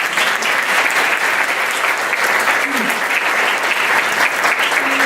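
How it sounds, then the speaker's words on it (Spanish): A conference audience gives sustained, dense applause, loud and even throughout, with a brief voice rising faintly over the clapping. "Le damos otro aplauso, ¿les parece?"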